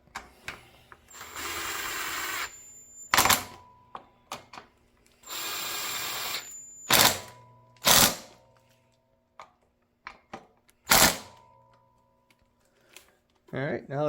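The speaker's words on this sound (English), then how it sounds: "I'm gonna use my impact." Impact wrench tightening ignition coil bolts on a 1985 Honda, several short loud bursts of rattling whir with pauses between, plus clicks and handling noises; a voice talks briefly.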